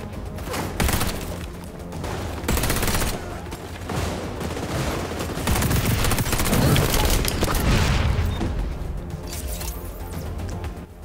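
Sustained gunfire from an XDefiant online shooter match, with dense bursts of rapid automatic shots and booms running nearly continuously at steady loudness.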